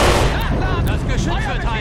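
Loud, close gunfire in the Men of War Assault Squad 2 game with a realism mod defending a German village, dense bursts of shots under a shouted voice throughout.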